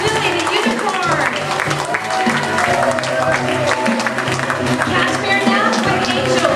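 A crowd claps steadily for graduates of a Muppet-style puppet making workshop as they come forward one by one, dense applause mixed with voices the whole way through.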